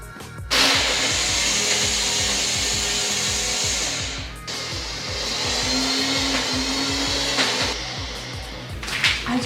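A blender whirs steadily while mixing chocolate chip frappuccino ingredients. The motor drones loudly and evenly, pausing briefly twice before starting up again, and no one talks over it.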